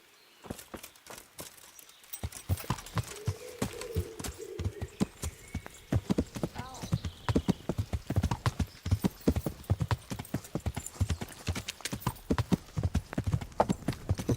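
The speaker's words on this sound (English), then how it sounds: "Whose horse is that?" In Kingdom Come: Deliverance, a horse's hooves clip-clop in a steady, close walking rhythm that begins after a short quiet start and carries on to the end.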